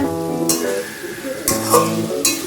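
Potato and pumpkin curry being stirred in a pan, with a few scraping, sizzling strokes of the spoon over a low, steady hum.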